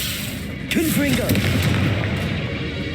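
A Confringo fire spell in Hogwarts Legacy goes off with a booming blast, followed by a sustained rumbling burst of fiery noise, loud and close, mixed with game sounds.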